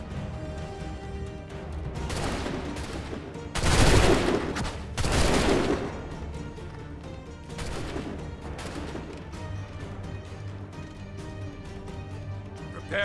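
Musket volley gunfire in Assassin's Creed 3, several loud crackling bursts of massed shots in quick succession with rolling echoes between them and voices beneath.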